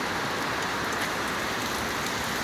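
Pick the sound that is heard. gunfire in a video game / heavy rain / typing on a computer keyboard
heavy rain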